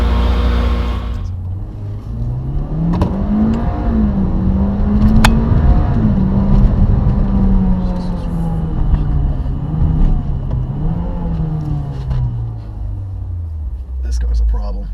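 A 2015 Mitsubishi Evo X with a Cobb Accessport drives and accelerates hard, its engine note climbing and dropping through several gear shifts, loud and close from inside the car.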